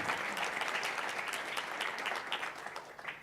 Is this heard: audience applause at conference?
yes